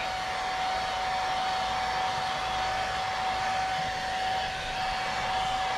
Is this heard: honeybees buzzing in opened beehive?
no